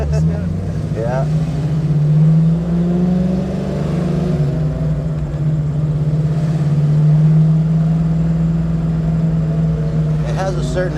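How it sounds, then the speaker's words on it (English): A 1970 Chevy Camaro Z28's high-performance V8 burbles loud and close, holding a steady low exhaust note with slight rises and falls in revs, while people talk briefly near the start and the end. "Has a certain exhaust note to it"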